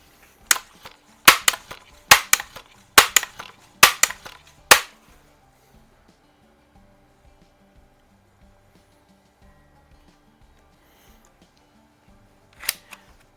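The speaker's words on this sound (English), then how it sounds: "I'm going to aim at the W on the can" Sharp cracks from a Barra 900 pump-action BB rifle striking a can, about eight quick reports in the first five seconds, then quiet, with one more close snap near the end.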